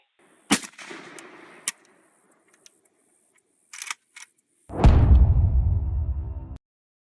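Gunshots ring out during a chase of an armed suspect: a few sharp, isolated cracks spaced apart, then a louder, longer noisy burst lasting nearly two seconds before cutting off.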